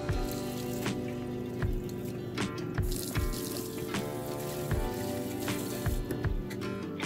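Water is poured off tamarind after a quick rinse, a continuous close splashing trickle with small drips and clatters in a kitchen, no one speaking.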